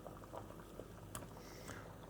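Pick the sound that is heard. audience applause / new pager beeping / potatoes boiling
potatoes boiling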